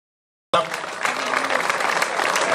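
Applause breaks out suddenly after a moment of silence at a hill-climb race award ceremony, a crowd clapping densely and steadily for a couple of seconds.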